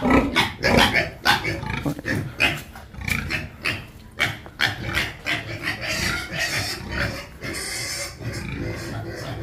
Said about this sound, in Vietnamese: Con lợn này mà kêu ghê.